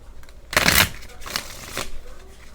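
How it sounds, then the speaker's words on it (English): A deck of cards being shuffled, one loud riffle burst near the start, then softer riffles and bridging rustles, close by and with no voices. "Let me shuffle."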